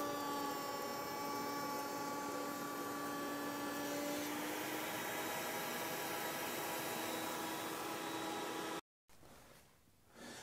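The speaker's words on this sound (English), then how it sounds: "Now start the router and run a test piece through your setup using a push stick to keep your fingers clear." A router runs with a rail and stile bit while a test piece is fed through, a loud steady high whine with a cutting tone shift partway, then a cut-off and a quieter tail.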